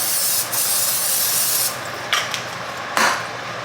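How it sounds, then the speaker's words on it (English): Pam cooking spray hisses steadily onto a pan in a long continuous spray, close and loud, with a few brief bursts near the end and no talk. "I'm still going to spray my pan with a little of this Pam"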